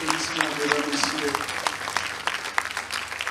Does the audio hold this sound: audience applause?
yes